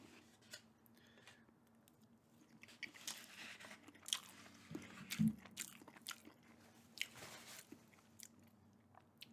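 Purdue chicken nuggets with barbecue sauce being eaten up close, quiet crisp bites and soft chewing in irregular bursts over a low, hushed background.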